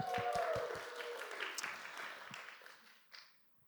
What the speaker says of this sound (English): Let's give CJ a round of applause.